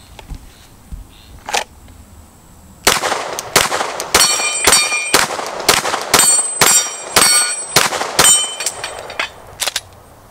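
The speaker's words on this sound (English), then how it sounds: "I'm going to be shooting at this dueling tree" Ten pistol shots from a Glock 34 with a ported barrel, firing Winchester steel-cased ammunition at a steel dueling tree, ring out as sharp, loud cracks with metallic clangs. They come in a fast, uneven string after a quiet lead-in.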